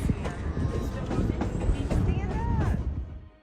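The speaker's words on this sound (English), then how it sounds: "The train was moving through the countryside in its signature rhythm." A train rolls along rails through countryside, a loud, steady rumble with rhythmic clatter and a brief squeal, close to the listener, fading out at the end.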